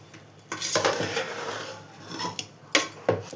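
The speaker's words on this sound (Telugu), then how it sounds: "ఇప్పుడు దీని అంతటిని బాగా కలియబెట్టాలండి" A spoon scrapes and clanks against a metal pot while boondi laddu mixture is stirred, giving a few sharp knocks and rasping strokes at an uneven pace, close and clear.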